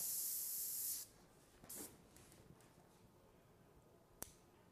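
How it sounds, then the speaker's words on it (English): A short burst of fine, hissing spray as an airbrush clears water from its tube, followed by quiet room tone with a faint second puff and a sharp click near the end. "I'm just spraying the water out."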